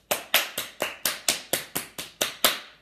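Hands clapping in a children's hand game: about ten sharp, evenly spaced claps at a brisk, steady pace, close and crisp with no voices.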